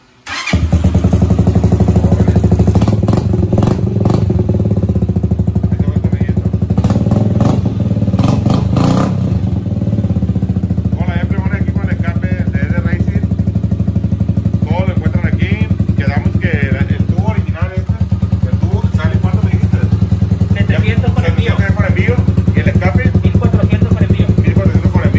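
A motorcycle fitted with an aftermarket racing exhaust roars loudly and close, revving repeatedly over a steady rumbling idle, with people talking intermittently beneath the engine noise.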